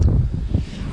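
Wind buffets a microphone aboard a sailing boat crossing the Pacific between the Galapagos and the Marquesas, a steady low rumble with faint rustle, close and loud, no voices.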